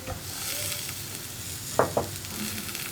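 Tomatoes stirred into a pan of mushroom masala, a low continuous frying sizzle with a couple of sharp spoon scrapes and knocks against the pan partway through.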